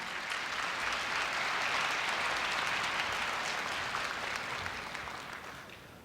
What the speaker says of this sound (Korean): 염재호 총장님을 뜨거운 박수로 맞이해 주시기 바랍니다.